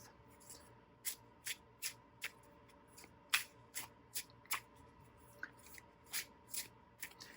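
Thin, bendable cardstock tarot cards being shuffled up close, a quiet series of about a dozen crisp riffling bursts at a fairly even pace.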